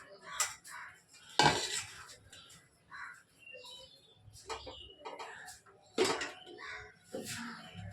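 Idli pots and dishes being washed by hand in a home kitchen, with intermittent metallic clanks and scraping knocks at close range, alongside rinsing splashes and faint background voices.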